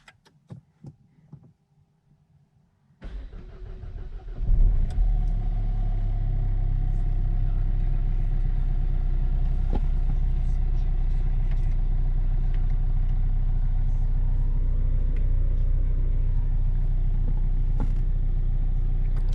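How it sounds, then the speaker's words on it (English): A Renault Laguna 3 engine is started after a clutch replacement: a brief crank catches around three seconds in, then the motor settles into a steady, low, throbbing idle that runs on unbroken. "So now we can start the engine and we can try the clutch."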